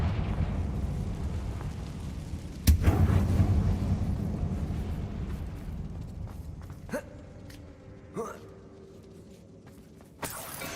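A Confringo spell blast in the video game Hogwarts Legacy, one loud explosive burst followed by a rumbling fiery roar that fades, with a few smaller pops and crackles afterward.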